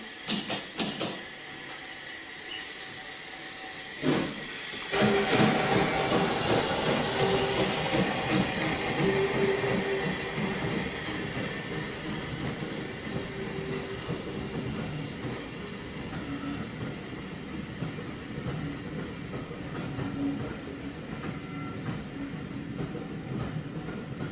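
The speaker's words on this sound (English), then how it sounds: "We have to watch the train as he leaves" A heritage steam-era passenger train pulls away past the Horsted Keynes signal box, a steady rumble and clatter of carriages building after a few seconds and continuing at moderate distance, with a faint background hiss.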